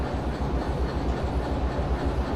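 A long freight train in the Derail Valley game rolls steadily along, a dense low rumble with rhythmic wheel and carriage noise continuing unbroken throughout, no voices.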